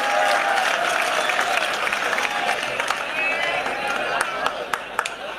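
An audience at a Hindi poetry gathering applauds in a continuous wash of clapping that stays loud and fairly even throughout, with a few sharper claps standing out near the end.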